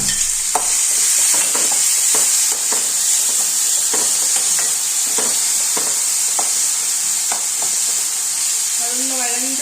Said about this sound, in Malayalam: അതിലേക്ക് ഒരു സവാളയും പച്ചമുളകും ഇഞ്ചി വെളുത്തുള്ളി ഇവ അരിഞ്ഞത്